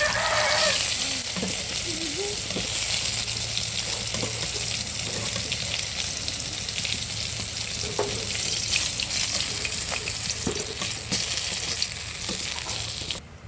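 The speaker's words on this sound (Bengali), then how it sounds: "এখন আমি মাছটাকে অন্য পাশ ভাজার ট্রাই করবো" Fish frying in a pan while it is turned to cook the other side, giving a steady, close, continuous sizzle and crackle with occasional light pops and no talking.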